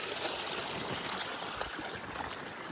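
Heavy floodwater from torrential rain rushes across a village farm field in Chhattisgarh after breaking its earthen embankment, giving a steady, dense roar of flowing water close by.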